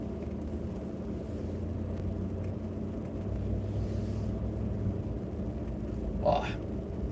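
A truck drives slowly across rough ground in strong wind, its engine a low, steady rumble swelling slightly midway, with buffeting wind noise and a brief rattle near the end.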